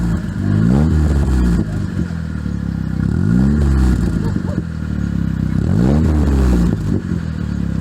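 A car engine, heard with the hood up, is revved several times in quick succession, each blip climbing to around 2,000 rpm and then dropping back, loud and close, with a steady idle between the revs.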